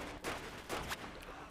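Gunshots in the video game Close Quarters: three quick shots fired down a staircase, evenly spaced and fairly loud over a constant background wash, with a fainter hit at the close.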